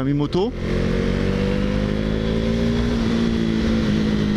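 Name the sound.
KTM Duke 390 motorcycle engine while riding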